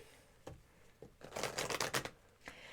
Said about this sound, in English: And I'm going to shuffle these up good again.